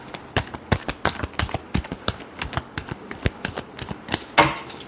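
Tarot cards are shuffled by hand in a quick, uneven riffle of crisp slaps and flutters, close and fairly loud, with no talking.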